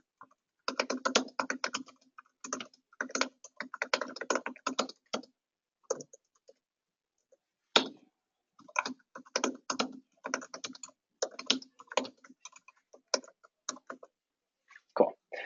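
Computer keyboard typing while filling in a supervision form, long stretches of close, crisp key clicks in uneven bursts with brief pauses between words and no talk.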